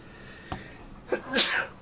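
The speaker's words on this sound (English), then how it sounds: "And sneeze." One short, sharp sneeze comes close to the microphone during a casual live gaming stream, preceded by a faint catch of breath and followed by a brief exhale.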